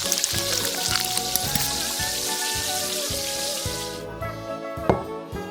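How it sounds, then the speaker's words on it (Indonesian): Frog meat stir-fries in a sweet and sour sauce, giving a close, steady sizzle with soft bubbling that cuts off near the end, followed by a single clatter. "Tumis 20 menit biar daging katak meresap."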